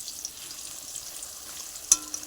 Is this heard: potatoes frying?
yes